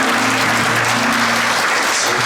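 Loud, steady applause from an audience at a district office assembly welcoming a musical singers' group to the stage, with a sustained hum or musical tone running beneath the clapping.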